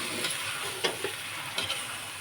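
Aloo pidupu, a Telugu-style potato dish, being stirred in a pan, with soft scraping strokes and a light sizzle underneath, a few distinct stir sounds spaced across a short stretch.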